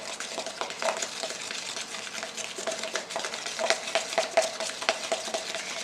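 Hair bleach is stirred in a bowl with a brush, giving close, continuous scraping and clicking against the bowl in a quick, uneven rhythm with no voices.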